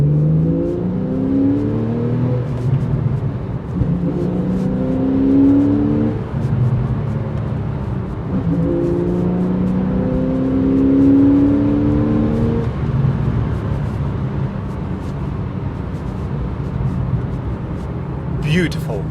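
A Porsche 911 Carrera S (991.1) in sports mode rises and falls through several revs and accelerations, a deep, growling engine note swelling and easing under steady road noise, with a voice talking over parts of it.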